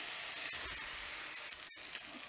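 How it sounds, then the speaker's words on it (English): A steak searing in a pan, giving a quiet, continuous hiss with a few small crackles and no one speaking. "Then I'm going to lay the steak in, press it down a bit, and we're going to let this go for 3 minutes on each side"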